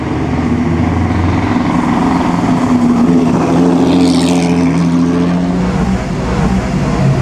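Pre-war Alfa Romeo car running along the Mille Miglia road rally, a loud, steady engine rumble close by with a brief rise as it passes.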